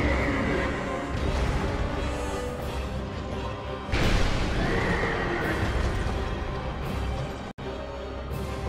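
Repeated loud horse whinnies and hoof clatter from a Dark Souls 2 horse enemy, with a strong burst around the middle over steady game background noise, no talking.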